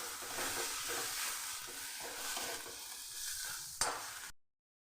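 Fish cutlet filling with chopped coriander sizzles in a pan while a spatula scrapes and stirs it in a steady rhythm, ending with one sharp clack just before the sound cuts off.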